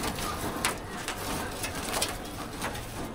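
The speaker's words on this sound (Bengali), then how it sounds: "দেন সিঙ্গেল দেখাই কবুতরটা" Pigeons kept in a loft give soft, low coos. The cooing is faint and sits under a diffuse background hiss, with a few scattered flutters and clicks.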